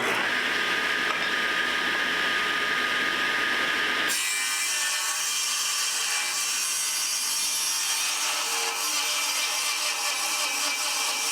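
A table saw rips through wooden 2x2 stock with a loud high whine and rasping cut that changes pitch midway, then the blade keeps running with a harsh grinding tone.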